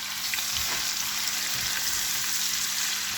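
Onions sizzle steadily in a hot pan with half a stock cube stirred in, a continuous close frying hiss with faint occasional stirring scrapes and no voices.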